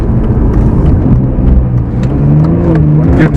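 A sports car accelerates hard nearby through its gears, the loud engine note climbing in pitch with brief shifts between rising sweeps.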